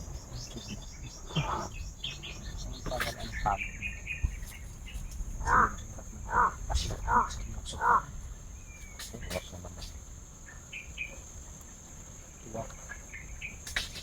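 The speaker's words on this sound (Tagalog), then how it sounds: "Kasiyahan ng mga ibon." Birds chirp in short bright bursts, several quick calls in a row mid-clip, over a busy outdoor background with some voices nearby.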